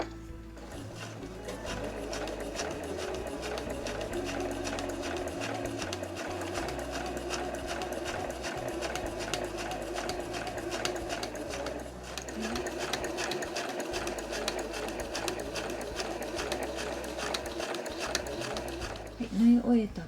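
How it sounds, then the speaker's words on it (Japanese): A sewing machine stitches a reversible drawstring tote bag with a fast, steady mechanical whir and needle chatter that runs throughout, pausing briefly midway, while a person talks over it. "1センチぐらい余分にミシン目のところを重ねていきます。"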